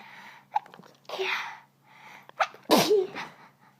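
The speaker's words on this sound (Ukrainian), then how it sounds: "Ой, чихнула." A single sharp human sneeze from a woman bursts out close and loud after a few soft breathy sounds, then fades into a brief gasp-like tail.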